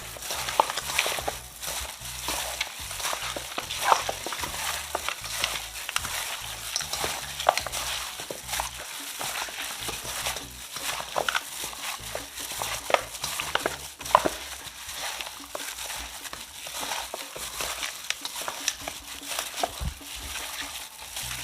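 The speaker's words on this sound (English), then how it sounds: "So now I'm gonna massage it up, you know. Just rub in all the seasoning." Hands massage seasoning and browning into raw chicken for Jamaican brown stew chicken, making a continuous wet squelching and rubbing that is close and fairly loud, with irregular louder squishes throughout.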